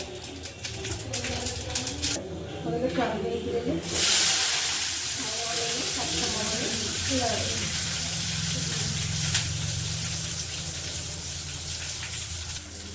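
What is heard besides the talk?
mustard seeds spluttering in hot oil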